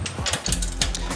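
A ratchet tightens nuts on a bull bar being fitted to an HJ45 Land Cruiser, giving a short burst of close, loud clicking pawl strokes with low metallic grinding underneath.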